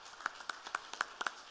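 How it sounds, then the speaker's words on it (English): An audience at an end-of-season youth football presentation applauds a retiring under-12s coach: sparse, distinct claps from a few people, moderately close and fairly quiet, irregular over a short moment. "I'd like to everyone to give them a nice round of applause"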